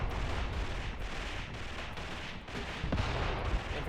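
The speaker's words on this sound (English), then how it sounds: "That's a mortar shell that just fell in." A mortar shell lands and explodes amid battlefield ambience in the Graviteam Tactics war game, heard as a muffled, fairly distant blast within steady rumbling combat noise, with no talk.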